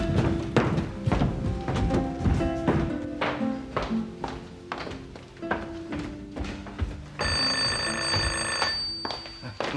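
An electronic telephone ring trills near the end, following a run of rhythmic knocking and tapping sounds.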